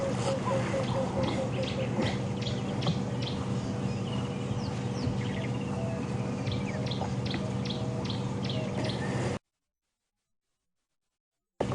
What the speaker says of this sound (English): You may be able to hear that alarm calling from the birds